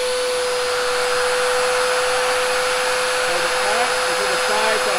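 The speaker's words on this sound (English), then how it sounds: "So I'm gonna turn on my domino." A Festool Domino 500 joiner runs at steady full speed, a loud, even high whine and rushing hiss close by, with a slight change in tone near the end as it begins the mortise cut.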